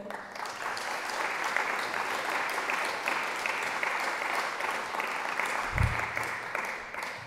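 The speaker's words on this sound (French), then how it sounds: "je vous demande de leur réserver votre premier salve d'applaudissements, s'il vous plaît" Audience applause at the Crypto & Finance Forum 2022 opening session, a steady, dense clapping from a large seated crowd that holds evenly for several seconds with a brief low thump near the end.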